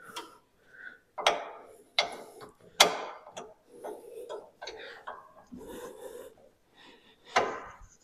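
A stiff shock adjuster collar on a Polaris Ranger is turned through its notches, giving a string of sharp, separate clicks and knocks. They come close up and unevenly spaced, with quiet gaps between them.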